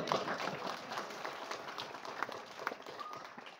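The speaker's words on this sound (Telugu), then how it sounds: "ఇగో ఈ చేతులు ఎత్తిన వాళ్ళకి మిగిలిన వాళ్ళు చప్పట్లు కొట్టాలి" An audience at a speech applauding people who raised their hands: a fairly faint, dense patter of many hands clapping at once, steady throughout, with no talk over it.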